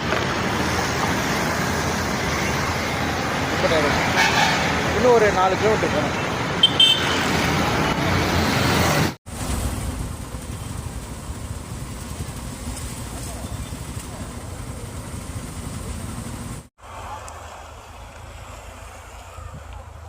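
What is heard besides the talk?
heavy road traffic in Villivakkam, Chennai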